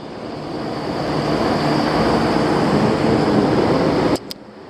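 Cottonwood fluff being blown off dirty microchannel condenser coils with a brass-nozzle air blower: a loud, steady broadband rushing hiss that builds and holds, then cuts off abruptly near the end.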